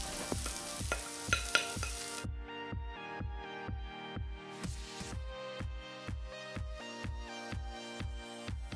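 Sliced medium onions hit hot oil with garlic and ginger in a pan, giving a steady sizzle with a regular, rhythmic stirring scrape throughout, close and moderately loud with no talking.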